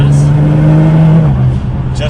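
A Nissan GTR in race mode with a transmission tune revs under light throttle, a steady close engine drone that rises slightly and then eases, with someone talking over it.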